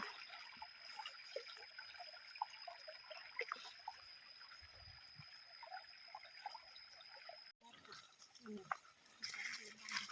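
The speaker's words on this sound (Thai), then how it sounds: "เสียงน้ำไหลนะคะ" Steady running water of a forest stream trickles and babbles throughout, with scattered soft clicks and faint background noise, a brief dropout near the end.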